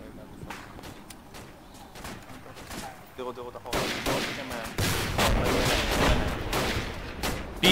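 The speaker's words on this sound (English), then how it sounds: "BTR is firing at us." BTR armored vehicle gunfire in a video game: rapid bursts of heavy shots, sparse at first, then a dense, louder barrage, with someone talking over the firing.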